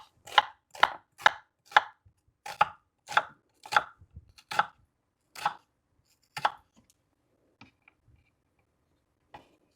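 Onions are chopped for a vinegar dipping sauce: about a dozen crisp knife strokes on a board in a quick, even rhythm, slowing to a few scattered taps and then near silence.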